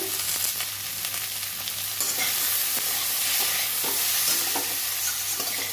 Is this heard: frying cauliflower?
yes